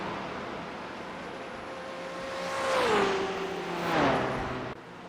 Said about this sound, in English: Gee, these BMWs sound nice, don't they?